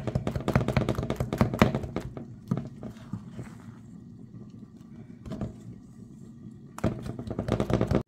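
Okra sauce being beaten in a cooking pot, heard as rapid, sharp knocks and taps in quick bursts, pausing into quieter bubbling in the middle before the vigorous beating resumes.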